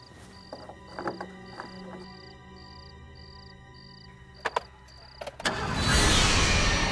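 A car engine starts up after a stretch of quiet interior sounds, a beeping chime and a few clunks, then catches with a rising roar and settles into a loud, steady running rumble, with no voices.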